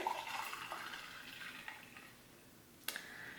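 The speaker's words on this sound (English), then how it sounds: "Fill it with our hot water." Hot water is poured into a glass mug of chai tea, a soft, faint trickle and splash in a quiet indoor setting, ending with a brief clink near the end.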